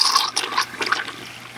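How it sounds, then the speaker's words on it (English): Recirculating pump pushing water through a fine gold recovery bowl, a steady splashing, gurgling rush of flowing water, close and continuous with no talk. "Okay, I'm going to plug in our pump right now."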